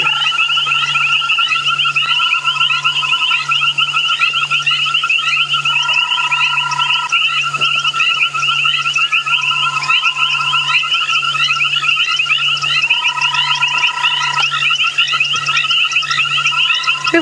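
A dense chorus of frogs calls continuously, layered trills and repeated short notes pulsing steadily throughout, with no voices.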